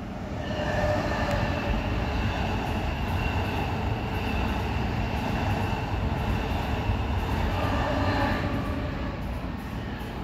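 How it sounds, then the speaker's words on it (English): An express train to New York roars past nearby with a continuous rushing, rumbling noise and squealing wheels, holding steady for several seconds before easing slightly. "That express train interrupted me."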